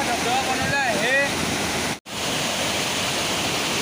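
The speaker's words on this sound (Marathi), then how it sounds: "आंजीच्या धरणामध्ये धबधबा जो ओव्हरफ्लोचा मार्ग काढलेला आहे" Water pouring over the overflow spillway waterfall at the Anji dam makes a steady, dense roar that fills the whole clip, with a brief dropout midway.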